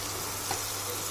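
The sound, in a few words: butter sizzling as it is added to a hot pan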